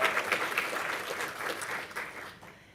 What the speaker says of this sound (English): How about giving a round of applause to Ryland and that beautiful film?